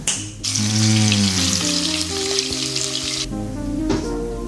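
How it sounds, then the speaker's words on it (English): Loud, crackling sizzle of meat searing in hot oil, a dense spitting hiss with some clinks and scraping, close up and continuous. "you put that steak in there, you can hear that beautiful sizzling just like that"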